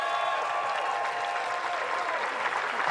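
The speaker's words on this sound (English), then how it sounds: "Let's give Myra and Ian a round of applause" A crowd at an outdoor rally in Alameda Park, Santa Barbara, applauding steadily, dense clapping filling the space with a faint whistle or tone running underneath.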